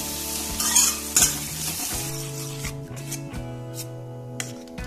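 Guar beans fry in oil with a close, steady sizzle while a spoon scrapes and stirs the pan, a few louder scrapes near the start, and steady tonal background music underneath.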